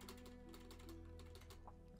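Steady mechanical clicking and tapping like computer keyboard keys being pressed during a speedrun of the game Alt-f4, with a constant low hum underneath; no distinct single space bar stroke stands out.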